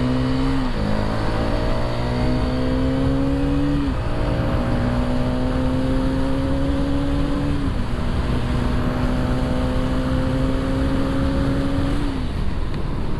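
A 2024 Hero Karizma XMR 210 motorcycle accelerates on the road, its engine note rising steadily through several gear changes, loud and close with constant wind rush and no voices.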